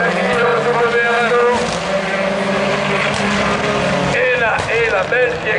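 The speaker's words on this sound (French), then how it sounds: "écoutez le bruit du moteur de la Fiesta, il est impressionnant" A Ford Fiesta supercar engine at a French rallycross championship race screams at high revs, loud and close, its pitch rising and falling with gear changes as a commentator talks over it.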